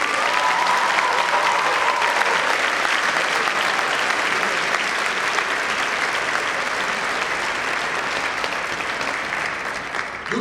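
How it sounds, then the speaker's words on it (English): Loud, sustained applause from a large crowd at a 2022 school commencement ceremony honoring teachers, dense and even clapping that holds steady for the whole stretch. "Let's give them a big round of applause."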